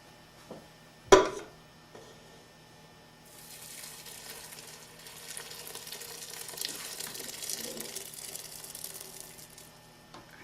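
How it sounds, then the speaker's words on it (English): Sauce mixture poured into a pan of roux while being whisked, a loud clank early on, then a rising, hissing sizzle and liquid gush that continues steadily to the end. "while we pour this in, we want to continuously whisk it"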